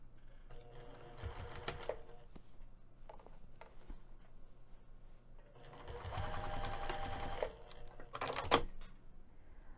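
A sewing machine stitches a strap onto a crossbody bag with an eighth-inch seam, running in several short bursts of rapid mechanical chatter separated by pauses, close and fairly quiet.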